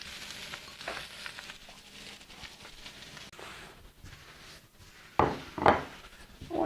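Precooked steak hash meat frying in a pan, a soft continuous sizzle with scraping stirs and a few sharp utensil clacks against the pan near the end, heard close with no talk.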